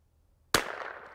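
A single sharp precision rifle shot cracks out of near silence, loud and close, followed by a short ringing decay outdoors at a target range.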